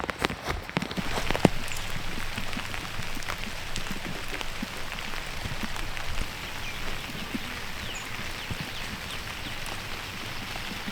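Rain patters steadily on a OneTigris Tetra TP camping tent, a dense, even hiss of drops that lasts throughout with a few sharper taps near the start and no talking.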